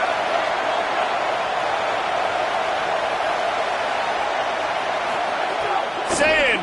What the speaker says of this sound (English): Third down as the crowd gets behind this defense.